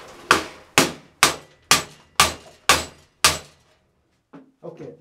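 A blade of 8670 steel chops into an old metal ironing board held in a vise: seven loud, evenly spaced ringing impacts, each decaying quickly, followed by a few faint clanks and shuffling sounds.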